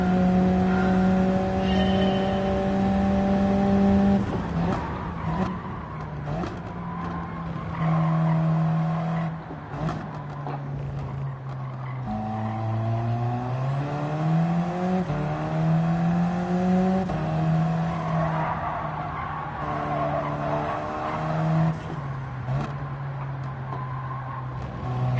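A car laps a track in the video game Gran Turismo 7, its engine droning steadily and rising and falling through gear changes, with repeated tire squeals through the corners over about twenty-five seconds of continuous driving.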